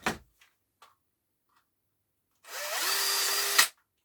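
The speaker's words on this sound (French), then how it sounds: "Je visse" A power screwdriver drives a screw during disassembly of salvaged objects: a few faint clicks, then a single loud, steady whir lasting about a second before it stops abruptly.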